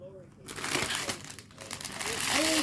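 Plastic packaging crinkles and crackles as a surprise package is opened, with bursts of close rustling and a voice talking over it.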